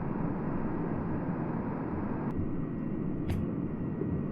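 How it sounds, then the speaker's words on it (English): Fixed-wing jet in a flight-sim game accelerating down a runway, a steady broad engine roar and rushing wind holding constant throughout, with a couple of brief faint clicks near the end. "Look how fast she accelerates down the runway though"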